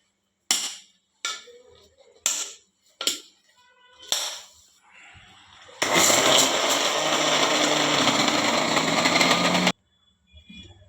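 A kitchen mixer grinds gongura (sorrel leaf) chutney in one loud continuous burst of about four seconds, preceded by several short clattering knocks and followed by quiet.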